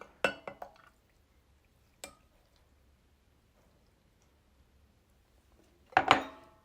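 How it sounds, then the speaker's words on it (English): A spoon clinks against a cup while cacao peppermint hot chocolate is stirred: a quick cluster of close metallic taps, a lone clink, then a sharper final rattle in an otherwise quiet room. "give it a really good stir to break up any lumps of cacao"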